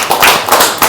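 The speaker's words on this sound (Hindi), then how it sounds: "एक बार जोरदार तालियां बजाएंगे" Seminar audience clapping in a hall, a short burst of a few sharp hand claps, close and loud, with no talking.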